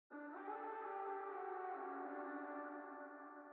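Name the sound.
distorted ear candy vocal chant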